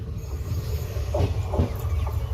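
A diesel-hauled train on the Northeast Frontier Railway rumbles along the rails with a low steady roar, faint squealing tones rising briefly over the rolling noise.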